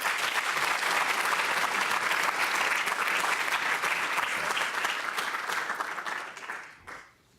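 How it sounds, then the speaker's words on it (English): Warm applause from the audience at a university neuroscience public lecture for Brain Awareness Week, many hands clapping in a full, even burst that tapers off after about seven seconds. "Let's give a warm round of applause for Dr. Reyes."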